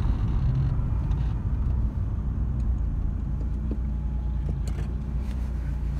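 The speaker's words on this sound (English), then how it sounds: "I'm just driving around near the city centre." Vauxhall Cavalier car driving around a city centre in the evening, steady low engine and road rumble heard from inside, moderate level with a few faint clicks and distant traffic noises, no talking.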